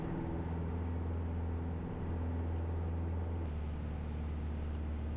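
Steady loud drone of a Piper PA-28 Cadet's piston engine at full throttle during pattern work, heard from inside the cabin as a constant even roar with no talk.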